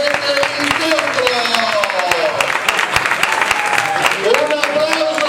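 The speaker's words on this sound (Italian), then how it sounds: "Un applauso bravo Luca" Applause and clapping rise from a live audience at the close of a three-round amateur boxing bout, a dense steady patter with crowd noise and an announcer's voice talking over it throughout.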